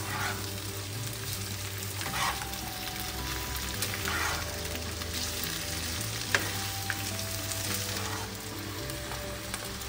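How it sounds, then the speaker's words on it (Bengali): Vegetables and spices sizzle steadily in hot oil for homemade sambar dal, a constant crackling hiss with occasional stirring, close and even in level, no voices. "এবার এগুলোকে সব আমি একটু ভাজা ভাজা করে নিচ্ছি।"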